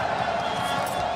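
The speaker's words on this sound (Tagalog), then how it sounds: "Malakas sila sa battle cry ng 9C ay ng crowd natin" Dense crowd roar fills an esports arena during a Counter-Strike match at an IEM event, a steady wall of cheering and chanting voices throughout, loud and continuous without distinct breaks.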